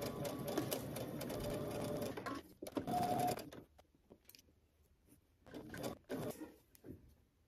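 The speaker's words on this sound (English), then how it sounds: "now you're going to head to your sewing machine and you're going to edge stitch around your pocket" A sewing machine runs in a steady whirring burst, stops, then starts again in shorter bursts, close up with no voices.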